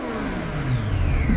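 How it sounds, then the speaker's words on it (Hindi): A Triumph Street Triple RS motorcycle fitted with an Arrow exhaust revs close up, its loud engine note climbing steadily in pitch and growing louder toward the end. "नेक्स्ट लेवल आवाज़ है यार इस बाइक की"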